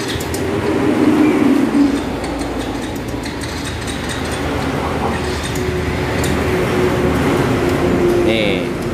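A Yamaha Mio Soul GT scooter with a weak fuel pump, smoky exhaust, lost compression and a stripped spark plug thread runs steadily after a restart, a loud continuous engine drone with voices audible over it.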